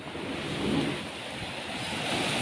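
Ocean waves at a beach: a steady, rushing wash of surf mixed with wind, swelling slightly and then easing, close and fairly loud, with no voices.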